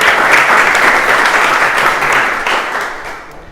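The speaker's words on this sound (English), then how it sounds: "a round of applause please" A conference audience applauds as Ashley Davies is introduced for a Kotlin legacy-code talk: a loud, close wash of many clapping hands that holds steady, then thins and fades out at the end.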